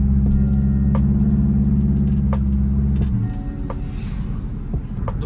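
A Corolla fitted with a Subaru engine idles at low RPM with a loud, deep, pulsing rumble up close for about three seconds, then drops to a softer, rougher burble with light background noise.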